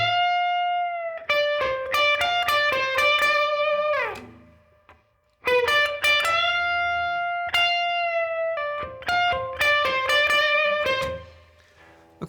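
Electric guitar plays a slow, soulful minor pentatonic blues lick, with sustained bent notes and phrases separated by brief pauses, played alone and up close.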